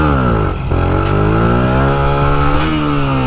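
A 125cc motorcycle engine held at high revs during a power wheelie, a loud continuous buzzing drone with a brief dip early on before the pitch climbs and steadies.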